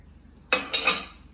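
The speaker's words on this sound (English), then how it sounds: "give it a bit of a stir" A spoon clinks twice against a pot while stirring a knob of butter into hot homemade jam, close and brief after a quiet start.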